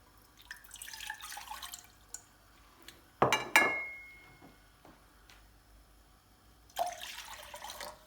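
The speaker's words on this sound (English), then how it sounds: "add cold water into the pan" Cold water splashes and trickles into a metal pan in short bursts for masala chai, with a few sharp clinks of the pan, close and fairly quiet.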